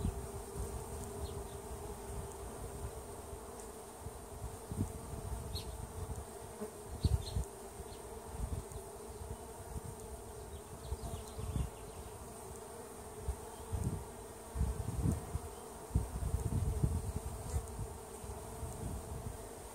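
Honeybees buzz steadily at the Ingolf hive during a May inspection, a dense continuous drone with occasional louder swells as individual bees pass close, no talking.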